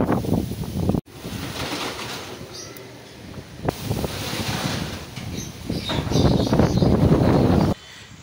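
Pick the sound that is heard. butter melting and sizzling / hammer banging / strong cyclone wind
strong cyclone wind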